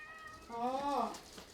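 A cat meows once, a drawn-out, rising-then-falling cry heard up close, with some quiet background noise.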